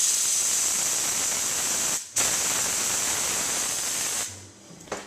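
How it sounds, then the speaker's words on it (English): Steam hisses hard from the wand of a commercial La San Marco 8516M espresso machine, a loud, close, continuous jet of white noise that cuts out briefly once, resumes, then tails off near the end. "we have lots of steam pressure"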